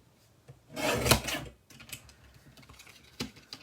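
Paper guillotine trimmer slicing through cardstock, one close rasping cut followed by a few faint soft clicks and handling sounds, quiet with no talk.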